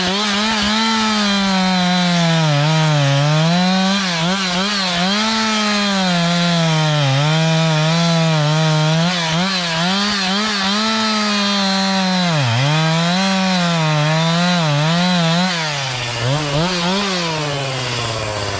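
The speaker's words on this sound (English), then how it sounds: "I'm gonna get the wood bucked up now." A chainsaw bucking felled timber into firewood runs loud and close for the whole stretch, its engine note dipping and surging as the chain bites through the wood, with no voices.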